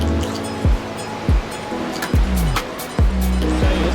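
A large waterfall on Scotland's east coast, where salmon leap upstream, roars steadily up close while other sharp thumps cut through the rush of water.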